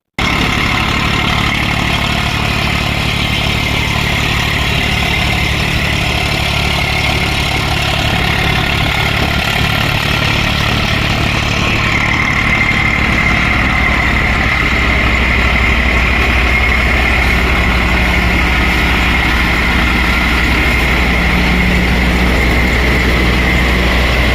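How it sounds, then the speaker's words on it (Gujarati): An Eicher 333 tractor in good condition runs a thresher, its engine holding a loud, steady drone with a constant low hum throughout and no talk. "થ્રેશરમાં ટ્રેક્ટર ચાલી રહ્યું છે, આખું સારી કન્ડિશનમાં ટ્રેક્ટર છે"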